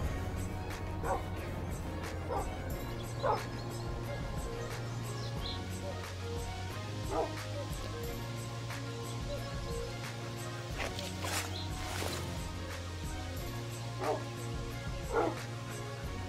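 Dogs in Minecraft bark and yip in short repeated bursts over a steady game soundtrack, fairly close and scattered throughout.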